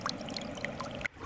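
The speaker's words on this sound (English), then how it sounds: "This is all rain, we got water." Steady rain with running water forms a continuous close wash of noise, with small droplet plinks scattered throughout, recorded outdoors in nature.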